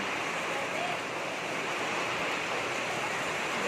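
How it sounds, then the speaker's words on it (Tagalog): Steady, loud roar of Typhoon Ulysses wind and rushing water, a dense storm noise that fills the whole clip without pause. "Ang lakas ng bagyo."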